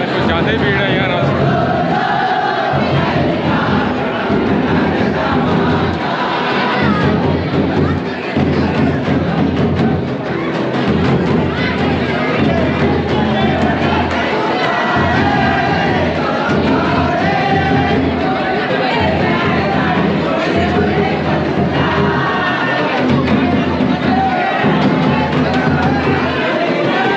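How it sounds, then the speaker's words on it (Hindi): A dense, loud crowd bustles throughout a wedding celebration in the Andaman Islands, with steady chatter and overlapping voices, occasional shouts and nearby speech mixed in. "कुछ ज़्यादा ही भीड़ है यार आज।"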